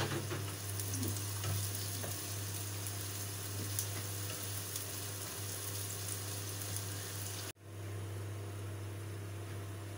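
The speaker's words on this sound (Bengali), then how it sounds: "পেঁয়াজটা আমি অনবরত নাড়বো" Onions stirred continuously in a pan of hot oil for a Bengali-style tilapia fish dish, a steady soft sizzle with occasional scrape clicks over a low constant hum, briefly cutting out near the end; no speech.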